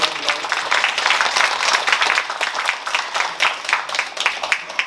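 An audience at a small concert marking a Korean literary anniversary applauds, a steady patter of clapping lasting several seconds with no voices over it.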